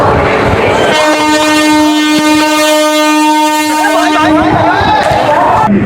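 A train horn blares long and loud at a busy suburban railway station near Kolkata, a sustained tonal blast over the rumble of rail cars and crowd bustle.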